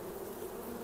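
Honey bees droning at an opened, crowded hive being split, a dense, steady hum close by with no break and no voices.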